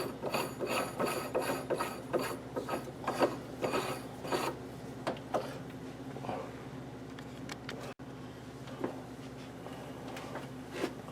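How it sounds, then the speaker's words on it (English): A Logan lathe collet closer being screwed into the collet during a repair, giving a close series of dry rasping, rubbing metal turns and light ratchet-like clicks, steady through the clip with no talking. "Screw it into the collet."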